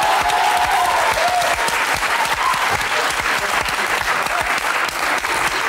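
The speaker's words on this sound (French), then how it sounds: "Si vous pouvez les applaudir." Dense, steady applause from a live audience fills the whole stretch, loud and continuous, greeting the backing choir singers on stage at a French variety comedy show.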